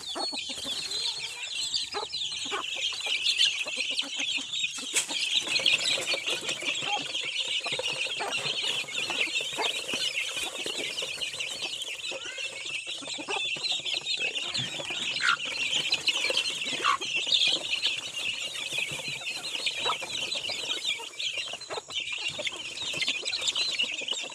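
A flock of backyard chickens, including a mother hen, cluck and chirp steadily throughout, with high peeping and scattered wing flaps over a busy outdoor background.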